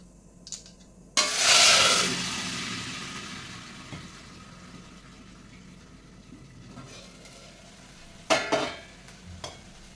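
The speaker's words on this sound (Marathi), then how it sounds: "जिरे मोहरी तडतडले की पाणी घालायचे।" Water poured into hot oil tempered with mustard seeds, cumin and a pinch of asafoetida sets off a loud, bright sizzle that gradually dies down to a steady crackle, then flares again in a second burst near the end.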